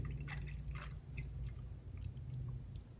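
Green antifreeze poured from a jug into a Chevrolet Malibu coolant reservoir, a faint close trickle with small splashes and drips, heard alone.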